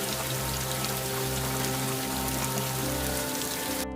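Light rain falls in a cartoon scene, a soft steady patter of drops over a low tonal background music bed, alone and without speech.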